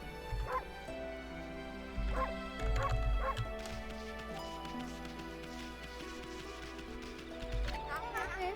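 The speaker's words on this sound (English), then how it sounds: "You barking at me?" Game dog from Okami HD barking a few times in short yips and bow-wows over a steady background music bed, with a voice briefly present.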